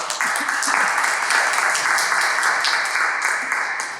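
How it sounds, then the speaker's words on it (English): An audience at a Toastmasters club meeting breaks into continuous applause, many hands clapping steadily and fairly loudly for the full few seconds with no talk over it. "Big applause."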